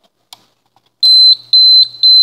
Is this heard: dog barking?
no